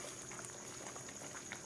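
Pork minatamis simmering in a covered pot, a steady low bubbling and gentle liquid burble, faint and continuous.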